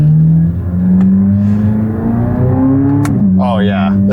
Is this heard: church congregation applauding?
no